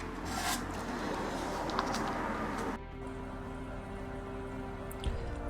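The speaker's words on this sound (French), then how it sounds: "Donc je découpe voilà, un cône avec ce polystyrène extrudé pour avoir voilà, une bonne base." Extruded polystyrene foam being cut into a cone shape for model terrain, a steady close rasping and scraping texture that runs continuously and then quietens to a softer rubbing with a faint hum.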